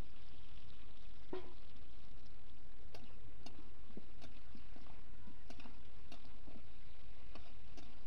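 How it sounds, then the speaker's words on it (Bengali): Tomatoes fry in oil in a pan for a cabbage and prawn dish, giving scattered sharp pops and ticks over a faint, low sizzle, with no talking. "টমেটোগুলো দিয়ে দিচ্ছি তেলের উপরে। এগুলো দিয়ে কষাবো।"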